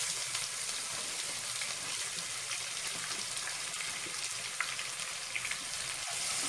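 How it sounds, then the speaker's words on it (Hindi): Chopped onions fry in a pan with ginger and garlic, giving a steady, even sizzle and crackle that runs throughout, close and moderately quiet, with no voices. "और इसे ब्राउन होने तक भून लेंगे।"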